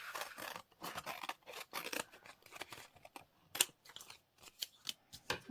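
Scissors trimming paper in a papercraft project, a quick series of crisp snips and rustles close by, one sharp click partway through, quiet overall with no speech.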